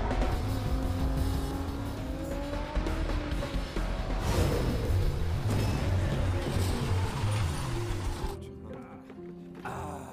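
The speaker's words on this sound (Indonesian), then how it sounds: "Jecol dan Teho memulai balapan." Cars race in a film scene, engines roaring and revving close by with tire squeals and passing whooshes, while a narrator talks over the action throughout.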